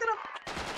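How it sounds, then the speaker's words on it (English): Gunfire in the Project Reality military shooter game during a night co-op match, a short burst of loud, noisy shots that bursts in after a brief tonal sound and some faint voice. "Oh shit, dude, we're getting shot."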